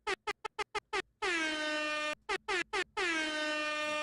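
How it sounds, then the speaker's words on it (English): Air horn sound effect blasting a rapid series of short honks, then a long held blast, another quick stutter of honks and a final sustained blast, loud and without talk. "The air horns"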